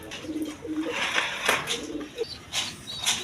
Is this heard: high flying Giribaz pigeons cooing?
yes